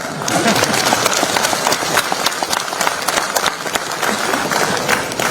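Applause and hand clapping from a crowd at a BJP political gathering in Assam, a dense, steady wash of many hands clapping at once that continues without a break throughout.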